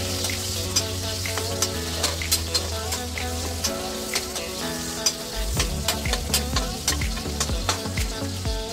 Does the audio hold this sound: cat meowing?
no